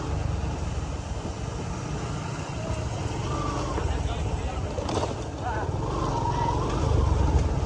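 A motorcycle ridden fast on a street in Bangladesh, its engine droning steadily and rising near the end, with wind rush and shouted voices over it.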